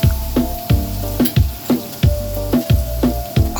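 Gochujang hits the hot Instant Pot with steady sizzling and frying, broken by rhythmic scraping and tapping of a utensil about every half second, loud and close.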